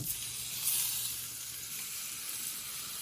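Pork shoulder sears fatty side down in a little olive oil, giving off a soft, steady sizzle and hiss that holds at low volume for a few seconds.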